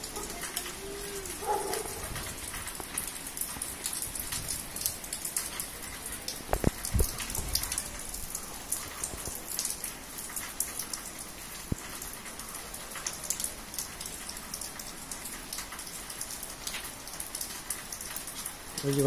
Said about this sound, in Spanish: Y con lluvia.